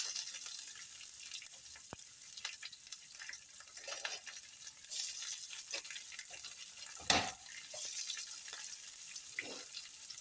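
Mustard seeds, cumin, cut dried red chillies and onions fry in hot oil for a beans and coconut fry, a steady soft sizzle with occasional crackles and stirring clinks close by.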